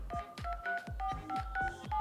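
Phone keypad tones dialed on an Apple Watch fitted with a screen protector, a quick series of about eight short beeps in uneven rhythm, clear and close with no talking.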